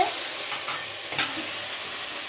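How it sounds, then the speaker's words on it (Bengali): Potatoes frying in a pan as water goes in for a poha breakfast, a dense continuous sizzle and hiss with a few soft stirring scrapes, close and alone. "একটু জল দিয়ে দিলাম, আলুগুলো সেদ্ধ হতে হবে।"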